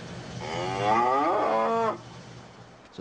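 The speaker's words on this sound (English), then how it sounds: "instead of the real siren, they use a recording of a cow." A single long cow moo played from a recording in place of a tsunami warning siren, loud and drawn out with a wavering pitch, lasting nearly two seconds before fading into quiet background hiss.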